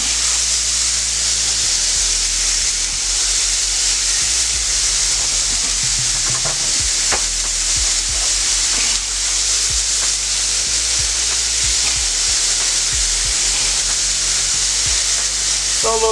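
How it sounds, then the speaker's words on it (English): Thin-cut steak sizzling on a hot hibachi griddle at home, a loud steady frying hiss throughout with occasional scraping and tapping of a utensil, close and without talk. "it doesn't take long for this steak to cook"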